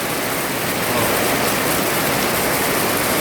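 Heavy rain pours down in the mountains, a dense, loud, unbroken hiss of water falling steadily all around, with no other sounds rising above it.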